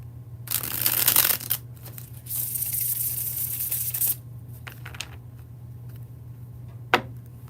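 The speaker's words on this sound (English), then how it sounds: "Get a quick bridge shuffle." Tarot cards given a quick bridge shuffle, a dense riffling burst followed by a softer rustling cascade, then a few small taps and a sharp tick near the end, close and alone without talk.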